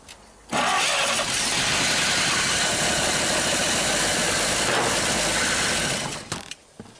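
A 1939 Chevrolet Master engine cranks and catches, then runs steadily and loudly close by for several seconds before dying down, with no talk over it.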